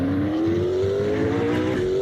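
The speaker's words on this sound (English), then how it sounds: "blow-off valve when you are releasing some of the pressure from the turbo" Turbocharged race car in the Assetto Corsa racing game, its engine droning loud and steady with a rising pitch, and the blow-off valve venting pressure from the turbo, with no talk over it.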